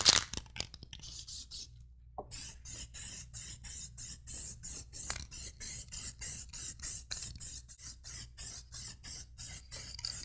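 Plasti Dip silver metalizer sprayed over a white base coat, heard as rapid, evenly spaced hissing bursts, close and fairly loud, after a short silence near the start.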